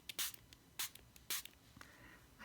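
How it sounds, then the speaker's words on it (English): A hand-pumped spray bottle mists water onto watercolor paper in a few quick bursts, close and crisp, with quiet gaps between them. "I'm going to take my spray bottle"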